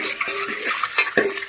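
Boiled eggs frying in oil for egg biryani, with a loud, close sizzle broken by repeated scraping and clinking as a spoon stirs them in the pan.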